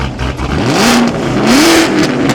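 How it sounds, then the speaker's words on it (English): An SS 1LE sports car engine revs up close, its loud roar rising in pitch twice in quick succession before settling. "how about a couple revs?"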